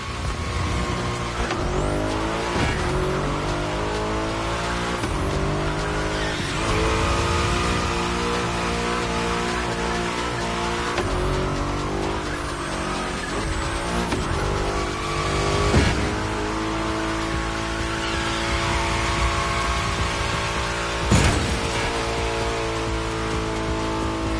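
A car engine in The Crew Motorfest racing game revs hard and steadily through a drift run, with rising and falling engine pitch, gear changes and occasional tire squeal, loud and continuous.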